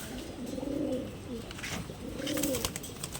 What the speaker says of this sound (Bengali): সিলভার পাঙ্খি কবুতর মাদি কবুতর